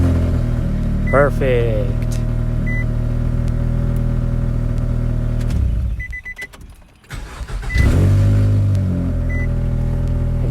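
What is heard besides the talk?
2002-2006 Nissan Altima 2.5 engine starting and running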